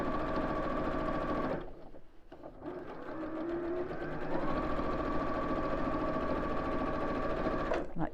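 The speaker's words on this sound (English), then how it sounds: "And then I'm sewing straight across the top, really close to the edge." A domestic sewing machine runs a straight stitch across the top edge of a fabric flap, its steady rapid whirring close and continuous, broken by a brief pause before resuming at an even pace.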